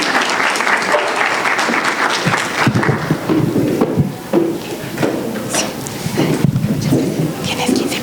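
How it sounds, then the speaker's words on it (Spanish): Audience at a youth climate summit opening applauding, dense clapping with a few louder close claps, continuing over several seconds. "Un aplauso, por favor"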